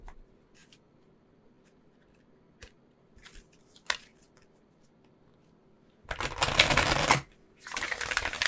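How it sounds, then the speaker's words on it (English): Oracle cards are shuffled in two dense, loud bursts of riffling near the end, after a quiet stretch broken by a few soft taps and handling sounds. "let's get you some oracle cards"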